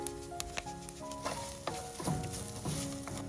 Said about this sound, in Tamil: இப்போ உப்பு போட்டு ஒரு கிளறியாச்சு.